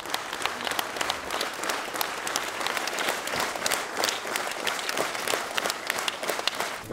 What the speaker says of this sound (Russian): Больше минуты зал аплодирует стоя.